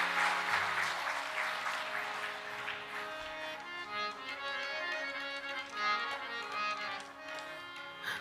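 Audience applause at a religious discourse on Shiva worship as the guru departs, a continuous crowd clapping that holds fairly steady throughout, moderately quiet with some music-like tones beneath.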